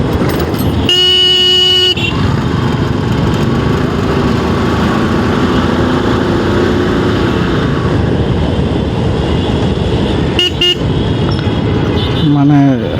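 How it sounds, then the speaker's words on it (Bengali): A faulty motorcycle horn honks in short bursts, once for about a second early on and again briefly near the end, over steady loud road and engine noise while the bike rides along. "বাইকের হর্নটা ডিস্টার্ব দিচ্ছে"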